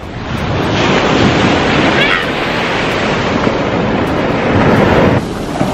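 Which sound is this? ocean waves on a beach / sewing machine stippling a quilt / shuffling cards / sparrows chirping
ocean waves on a beach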